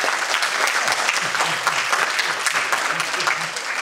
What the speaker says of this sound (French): Vous pouvez les applaudir très très fort, s'il vous plaît.